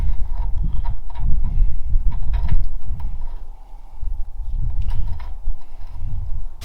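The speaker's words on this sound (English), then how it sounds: "Let's go ahead and tighten up our castle nut." A castle nut is tightened on a trailer wheel axle with repeated ratcheting clicks and metallic turning sounds, heard close up in uneven rhythmic bursts.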